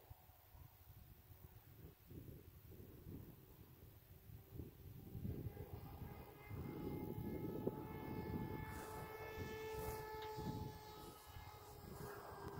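An AR Wing Pro RC plane flies at about half throttle in a breeze, its faint steady motor whine rising slightly as it passes. The sound carries over soft wind noise.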